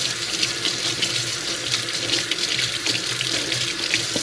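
A kitchen tap runs steadily while the water warms up. The flow is a close, constant hiss and splash into a sink, with no talk over it.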